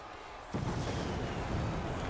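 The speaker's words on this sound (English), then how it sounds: "Fireworks still on display." Arena fireworks bursting in a WWE 2K20 wrestling match, a sudden loud onset of booming, crackling pyrotechnics that fills the space and holds steady for about two seconds.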